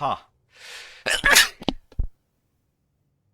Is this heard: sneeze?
yes